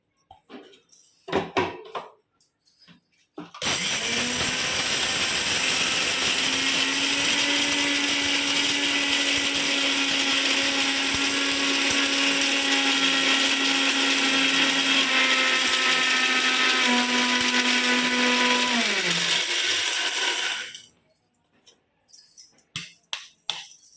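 A mixer grinder whirs loudly and continuously for about fifteen seconds grinding lentils finely, the motor pitch shifting slightly as it runs, with clicks and handling of the jar before and after.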